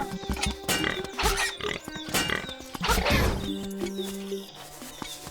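Pig-like grunts and oinks from an enemy in Zelda: Link's Awakening repeat in short bursts alongside clashing game effects and tones, loud and busy, with no talking.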